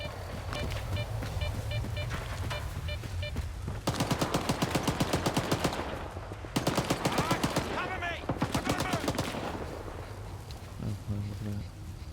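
Rapid bursts of automatic gunfire in the video game STALKER 2, firing in two strings of quick regular shots over steady background noise.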